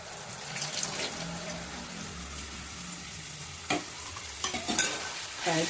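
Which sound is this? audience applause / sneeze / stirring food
stirring food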